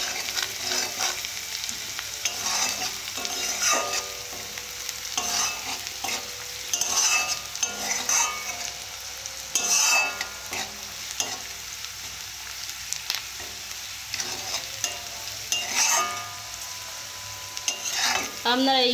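Spices with black cumin sautéing in a pan for a potato curry: a steady sizzle with repeated scraping and stirring strokes of a spoon against the metal, close and fairly loud throughout, with no talk.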